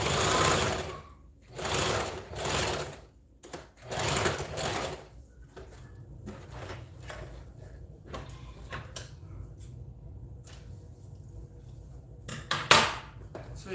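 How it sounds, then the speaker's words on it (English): A sewing machine stitches Ankara fabric for a bubu dress in several short whirring runs, close and clear, followed by quieter handling and rustling with a few clicks. "I'm sewing on the right side of the fabric."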